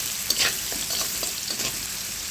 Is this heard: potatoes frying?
yes